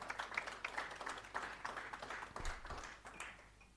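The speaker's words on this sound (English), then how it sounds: "Please, let's have a round of applause for Babu Nuvunga." Applause from an audience at a university entrepreneurship competition regional round, a faint, distant patter of many hands clapping steadily for a few seconds.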